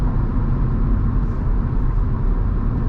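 A 2011 Volkswagen Polo GTI with a 180 hp DSG gearbox drives under acceleration, its engine a steady loud low rumble with road noise, heard from inside the car without talk.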